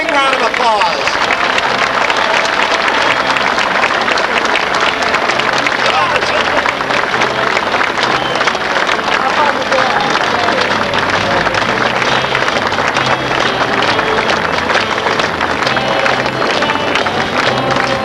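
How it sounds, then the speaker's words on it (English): A large crowd gives a big round of applause at the USS Hornet recommissioning ceremony, loud, dense and unbroken throughout, with voices mixed into the clapping. "let's give a big round of applause"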